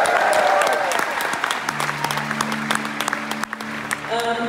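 Audience at a live concert in Cirque Royal, Brussels, breaking into loud, sustained applause that carries on under a few held musical tones before swelling again at the end.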